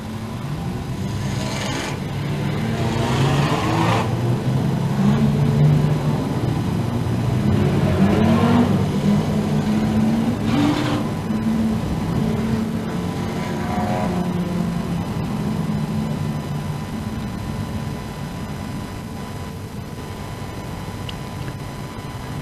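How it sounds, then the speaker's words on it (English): Street stock race cars idle and rev as they line up side by side, a steady low engine rumble with intermittent rising throttle blips, heard from a distance under crowd and track ambience. "Cars are getting ready to line up side by side."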